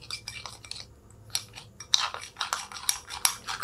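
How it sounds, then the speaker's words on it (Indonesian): A spoon stirs 20 grams of Superindo chocolate powder in a cup for latte art, giving light irregular clinks and scrapes against the cup wall that grow busier in the second half, close and fairly quiet with no talk. "kita aduk ya"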